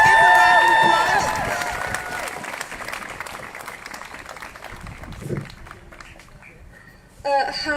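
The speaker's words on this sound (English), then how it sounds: "Give a round of applause." A crowd at a Black Lives Matter rally in Preston applauds and cheers outdoors, loud at first and then gradually fading, before a voice begins speaking at the end.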